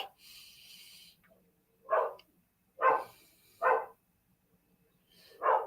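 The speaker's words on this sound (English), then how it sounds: "if you hear that, that's just the dog barking" A dog barks four times at spaced intervals, the barks loud and distinct against an otherwise quiet background.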